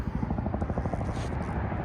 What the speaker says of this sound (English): the helicopter flying up